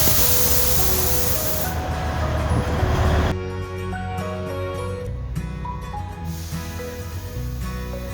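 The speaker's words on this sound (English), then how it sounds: "We were so excited to take a joyride in this cute little toy train." Matheran toy train, the small narrow-gauge hill railway, running with a steady rumbling, hissing rail noise that stays loud throughout, while tonal music-like lines sit over it.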